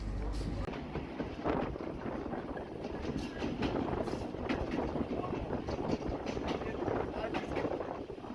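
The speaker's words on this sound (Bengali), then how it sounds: "দেখতে দেখতে আমাদের ট্রেন কিন্তু সুন্দর একটা কার্ভ নিতেছে।" The Rajbari Mail train runs on rails between Bhanga and Faridpur as it takes a curve, giving a steady, moderately loud rumble with rhythmic wheel clatter heard from aboard.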